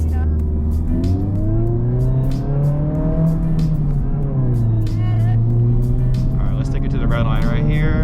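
A Honda Civic Type R FL5 engine revs hard toward redline from inside the car, its loud, continuous note climbing and dipping in pitch over several seconds with road and cabin noise around it.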